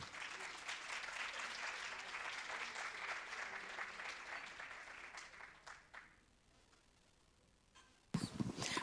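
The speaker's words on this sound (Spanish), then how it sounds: "la recibimos con un aplauso" A conference audience at a Latin American education forum gives sustained applause for a speaker, dense clapping that thins and fades out after about six seconds, followed by near quiet and a sudden burst of room noise at the end.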